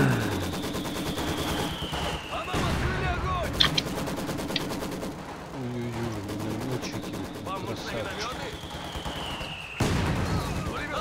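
Machine gun fire in the World War II strategy game Company of Heroes 2, with repeated bursts of rapid shots and distant explosions amid battlefield noise, mixed with game effects.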